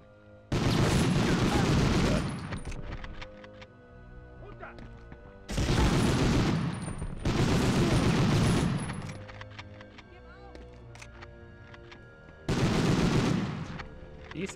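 Automatic gunfire from Medal of Honor rattles in three or four loud sustained bursts, each a couple of seconds long, separated by quieter gaps with a voice speaking.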